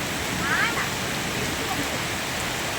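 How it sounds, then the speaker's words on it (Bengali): Rain during a thunderstorm at Mobarakpur Colony, Tehatta, Nadia, a steady hiss of rainfall pattering on surfaces, fairly close and even throughout, with no distinct thunderclap. "আর বৃষ্টি একটু কমছে"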